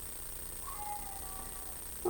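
A pet cat gives a single soft, drawn-out meow at moderate distance over faint room noise, with a brief knock at the very end.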